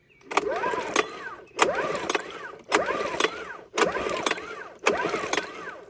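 Old outboard motor being pull-started by hand, five repeated cord pulls in steady rhythm, each a rising whirring crank that stops without the engine catching, close and fairly loud.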